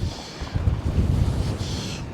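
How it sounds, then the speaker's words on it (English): Strong wind by the River Ouse at an abandoned stretch of railway, rumbling low gusts buffeting the microphone, loud and continuous with a brief airy rush near the end. "Whoa, it is very windy"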